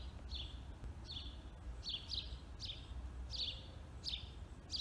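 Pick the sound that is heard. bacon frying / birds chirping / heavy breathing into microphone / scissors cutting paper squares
birds chirping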